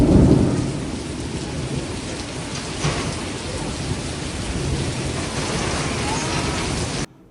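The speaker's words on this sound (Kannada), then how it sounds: "ಈದು, ಹೊಸ್ಮಾರು ಭಾಗಗಳಲ್ಲಿ ಆಲಿಕಲ್ಲು ಸಹಿತ ಧಾರಾಕಾರ ಮಳೆ ಕರಾವಳಿಗರಲ್ಲಿ ಆತಂಕವನ್ನು ಮೂಡಿಸಿದೆ" Heavy rain with hail pours steadily in Karkala taluk on the Karnataka coast, a dense loud hiss with low thunder rumbling through it and no voices.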